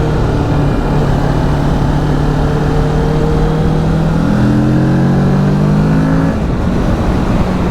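A Kawasaki Ninja 650 motorcycle engine revs loudly and close up, its pitch climbing and sliding in repeated sweeps over a steady, rumbling base.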